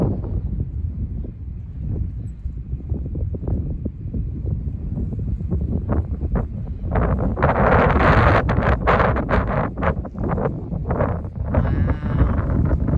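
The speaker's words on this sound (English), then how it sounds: "That north wind." A strong north wind sweeping through as a squall line storm arrives, a loud, steady roar buffeting the microphone, with surges of gusting and rustling growing stronger partway through, and no talk.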